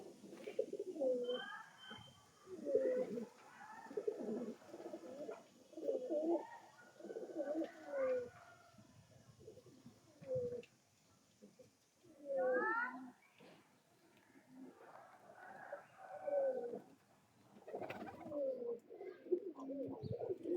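Pigeons coo in repeated soft, throaty phrases, close by, in a loft of young birds from an old bloodline of Madrasi Fulsira, Pilanka, Kalanka, Tippler and Kaldam breeds; faint background noise, no talking.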